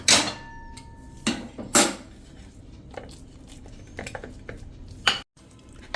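A spoon presses and flattens batter spread on an oil-greased plate, making loud metallic clinks and scrapes against the plate at irregular intervals, with quieter rubbing in between.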